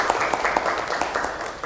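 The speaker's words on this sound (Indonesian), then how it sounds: "Ibu beri tepuk tangan dulu untuk kita semua" A classroom of students and their teacher clap after group presentations, brisk overlapping claps heard close up in a short burst, with faint talking underneath.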